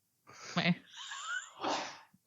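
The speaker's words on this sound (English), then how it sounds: "That was my husband sneezing." A man sneezes, a sharp inhaled burst and then a breathy blast, heard fairly close with no talk over it.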